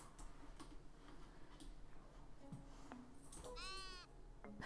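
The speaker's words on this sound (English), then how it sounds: "And there's a little sheep." In the video game Tiny Glade, a small sheep lets out a single short bleat near the end over a quiet ambient backdrop with faint ticking sounds.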